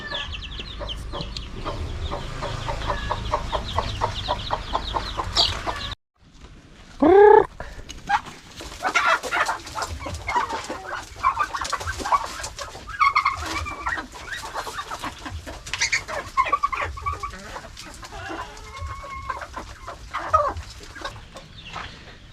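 Chicks and ducklings peeping and calling on a farm, a busy chorus of small high cries with clucking fowl mixed in, steady throughout with a brief gap early on and one louder call rising just after it.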